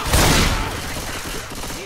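Rapid volley of video game gunfire bursts out loud at the start and trails off into rumbling echoes, with a voice briefly audible over it.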